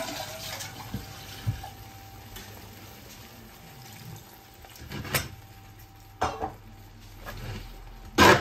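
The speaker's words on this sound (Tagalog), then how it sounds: "Ugas pa yung tofu." Tap water runs over tofu rinsed in a kitchen sink, a steady close splashing flow broken by a few sharper clinks and bursts of spray near the end.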